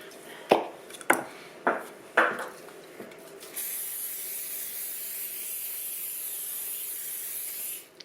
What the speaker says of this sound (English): Oh, I'm going to spray my pan.